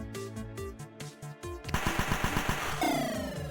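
Enemy guns in a battle story open up in a quick run of evenly spaced automatic shots, loud and close, entering midway after a stretch of music and then giving way to a sustained tone.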